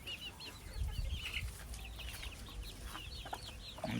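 Native chickens eating paddy rice on a rooftop keep up a stream of soft clucks and high chirps, with some low pecking thumps, close by and without talk.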